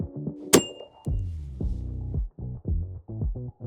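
A Japanese grenade launcher fires a shell with a single sharp, close crack and a brief ringing tail, followed by someone speaking.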